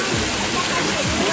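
A cascade at a swimming spot with a zipline, on a Texas road trip near Austin, gives off a steady, close rushing roar of falling water with no break.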